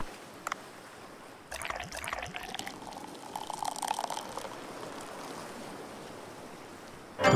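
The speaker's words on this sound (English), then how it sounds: "Do I need to, like, taper the pouring so that there's less foam?" Beer poured into a glass in Dave the Diver gives a soft, fizzy liquid rush and bubbling for a few seconds, then a louder clink near the end, with no talking.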